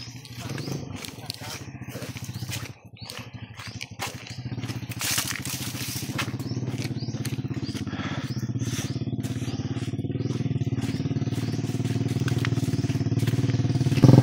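A motorcycle passes along a rural island path, its engine rumble building steadily and growing louder toward the end, mixed with crunching footsteps and outdoor clatter, while people talk throughout.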